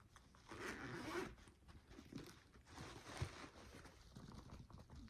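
The zipper on the center zip compartment of a satchel-style top-handle handbag is pulled open and shut in a few quick rasping strokes, close and quiet, with no talking.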